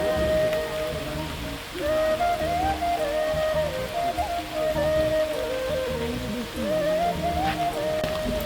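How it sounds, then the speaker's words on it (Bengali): Steady rain falls on an outdoor open area, a continuous hiss of drops on surfaces with a faint melodic tone running underneath and no talking. "বৃষ্টি নামতেছে।"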